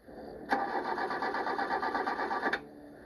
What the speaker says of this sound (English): And this couple still couldn't get their car to start.